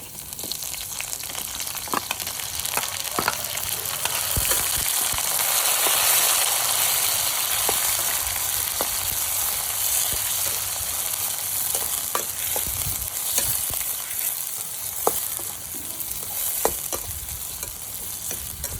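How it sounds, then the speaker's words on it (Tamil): Chopped small onions fry and sizzle steadily in hot oil with garlic while being stirred, with occasional scrapes and clicks of the spoon against the pan, close and continuous, no talk; a fish kulambu is being prepared. "ஒரு நூறு கிராம் சின்ன வெங்காயத்தை எடுத்து கட் பண்ணி வச்சுருக்கேன் இப்போ வெங்காயத்தையும் போட்டுக்கலாம்"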